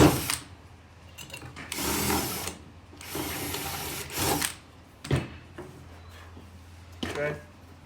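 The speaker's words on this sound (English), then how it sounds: "I wouldn't pre-drill them, I would just drill them now" Nearby power drill whirs in several short bursts of a second or so each, drilling holes for a K5 Blazer console cupholder, separated by quieter pauses with faint handling clicks.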